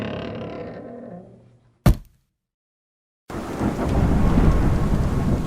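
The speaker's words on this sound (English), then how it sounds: "It rained heavily for 40 days." Heavy rain and thunder as a storybook sound effect: a rumbling roll fades out, a sharp crack of thunder hits, a short silence follows, then a steady loud downpour of rain.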